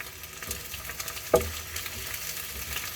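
Filipino beefsteak (bistec) is stirred as it fries in a pan, with a steady sizzle and one sharp scrape or clack partway through.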